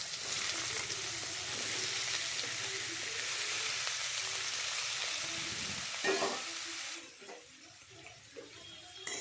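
Ash gourd pieces sizzle steadily in hot oil with panch phoron, a dense close frying hiss that thins out near the end as the sizzling settles.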